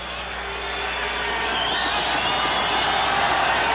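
A basketball arena crowd in Sacramento at a 1986 Kings vs Jazz game roars in a continuous wash of cheering that swells steadily louder, with no clear voices standing out.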